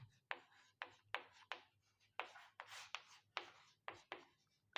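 Chalk or marker strokes on a board during a chemistry lesson, a steady series of scratchy rubbing strokes in quick succession, close and clear over a low background hum.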